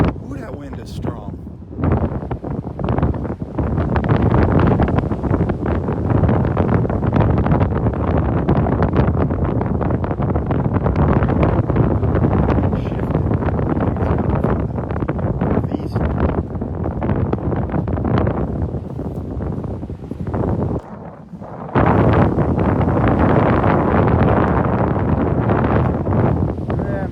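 Strong wind roars continuously across a microphone on Delnor-Wiggins beach, a loud, steady buffeting rush that dips briefly before surging again, with a voice faintly present beneath it.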